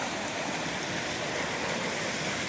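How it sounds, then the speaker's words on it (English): A waterfall on a backcountry creek in Georgia gives off a continuous, even rush of falling water, broad and steady from start to finish with no voices. "Look at that waterfall."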